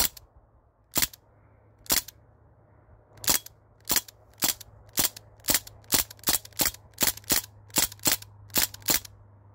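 Crosman DPMS SBR CO2-powered BB rifle firing outdoors, a series of about fifteen sharp cracking shots, sparse at first then quicker and more regular, loud and close over a low steady hum, no talking.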